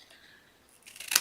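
Scissors cutting paper for a handmade box, one brief sharp snip at the end after near silence.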